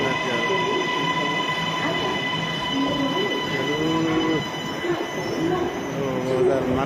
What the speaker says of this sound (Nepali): हामी जाने ट्रेन आएछ, हामी जाने ट्रेन आउँदैछ।